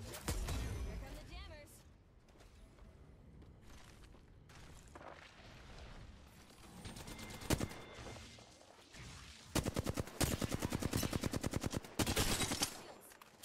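Gunfire in Apex Legends during a ranked match, with scattered single shots early on and then a rapid burst of automatic fire near the end. A voice talks over parts of it.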